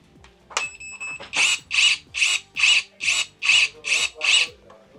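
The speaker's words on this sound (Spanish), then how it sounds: "También tenemos el cortador de ramas." A small electric branch cutter whirs in eight short, even bursts, each a buzzing rasp, with a brief high beep at the start.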